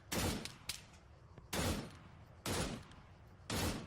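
Gunfire in the video game Antistasi: four sharp, loud bursts of shots at roughly one-second intervals, each with a short decaying tail, with no talking.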